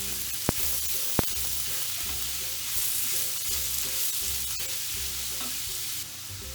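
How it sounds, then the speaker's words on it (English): Half a kilo of minced beef searing in a hot pan for burritos, a steady close sizzle with two sharp clacks early on and a few faint utensil knocks, with no voices. "when it's hot, I'm adding 500 grams of minced beef"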